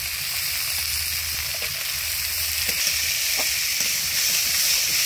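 Chopped mustard stems stir-frying in a hot pan, a steady close sizzle with occasional soft stirring scrapes, no talk.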